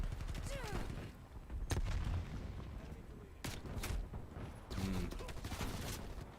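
In a shooter video game, a grenade explodes amid gunfire: heavy booms and sharp shots land at irregular intervals over a rumbling battle background, with people talking throughout.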